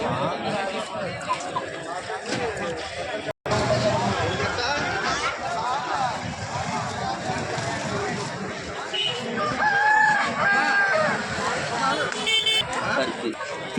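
Country chickens and roosters at Gokavaram market, with a rooster crowing amid a dense, noisy crowd, a vehicle horn tooting nearby, and people talking throughout.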